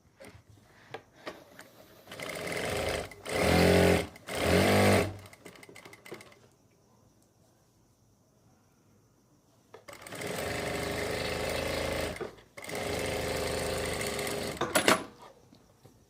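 A sewing machine stitches the seat seam of a palazzo pants front piece in bursts. Two short runs of rapid clatter come early, then a quiet pause, then a longer steady run of stitching, each burst close and distinct.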